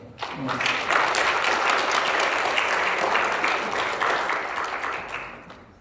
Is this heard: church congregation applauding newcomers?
yes